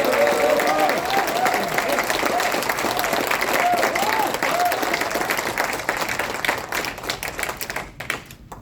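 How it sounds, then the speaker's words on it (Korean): A crowd of party members at a political rally in Jeju gives dense, loud applause that continues steadily and thins out toward the end, with a few voices rising above the clapping. "뜨거운 성원과 환영의 박수 부탁드립니다."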